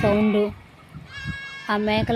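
Goats bleat repeatedly nearby, loud wavering cries with short gaps between them.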